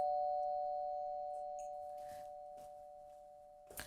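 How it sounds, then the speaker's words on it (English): A doorbell at a house chimes with a sustained, steady electronic tone that slowly fades over several seconds, followed by a brief knock or rustle at the end. "I hear a doorbell."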